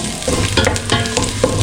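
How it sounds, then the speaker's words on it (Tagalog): Garlic sautés in hot oil for a chicken tinola, a loud close crackling sizzle with scattered pops and stirring scrapes throughout. "Mag-isa tayo ng bawang."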